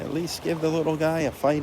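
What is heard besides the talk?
No everyday noise stands out behind the speech.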